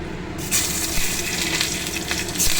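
Two whole dried chillies dropped into hot oil already tempered with black cumin, a sudden loud sizzle that flares up and keeps hissing steadily and close.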